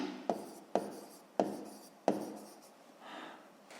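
Pen writing numbers on paper while working a math problem, four sharp taps as digits start, each trailing into soft scratching strokes, then a lighter scribble at the end, close and quiet with no voices.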